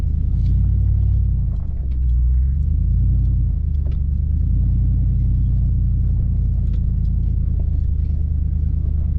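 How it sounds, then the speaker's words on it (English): A 2019 RAM Power Wagon on BFG KM3 tires crawling over sharp rocks on a California trail, heard as a loud, steady low engine rumble close by with occasional faint crunches and no talking. "Just love how these tires flex around some of these sharp rocks"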